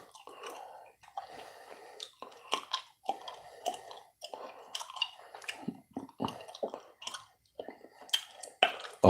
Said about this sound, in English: I hope you guys enjoyed the chip chewing.